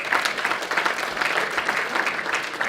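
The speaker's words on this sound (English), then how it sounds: "You don't have to clap at everything," A lecture audience breaks into loud, sustained clapping from many people, a dense even wash of applause that holds steady from start to finish, close and prominent.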